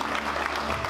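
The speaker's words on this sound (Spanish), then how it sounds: "Bárbara y Raúl, un fuerte aplauso también" Applause from guests at a baby shower party in a banquet hall, a short burst of dense, steady clapping close by.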